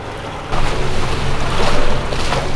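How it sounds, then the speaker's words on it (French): A sailboat motoring across a calm sea near Sicily, giving a steady broadband wash of water and wind with a low engine drone beneath, which swells louder after the first half-second and holds without any voices. "C'est au moteur, par mer calme, que le voyage commença."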